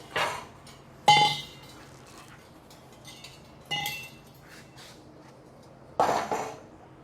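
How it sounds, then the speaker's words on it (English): A crusty old metal frame serving as a Model A hot rod body jig, lifted off its legs and flipped, giving a few sharp metallic clanks and thuds spaced seconds apart, close by in a quiet shop. "Let me go ahead and take this thing off the legs and flip it over"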